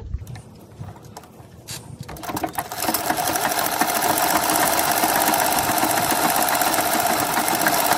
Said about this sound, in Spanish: Ahora vamos a coser la falda todo alrededor.